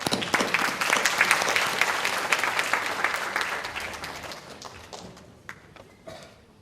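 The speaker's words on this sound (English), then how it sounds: "Shall we give them a round of applause?" Conference audience claps in a dense burst of applause that gradually thins out and fades into scattered claps, with no talking over it.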